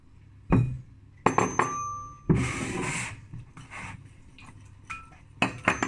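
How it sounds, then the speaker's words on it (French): Three eggs mixed into melted chocolate in a bowl for a microwave chocolate cake, heard as sharp clinks and scraping of a utensil against a glass bowl in irregular bursts, close and fairly loud. "Maintenant, on va mélanger ces 3 œufs dans le chocolat."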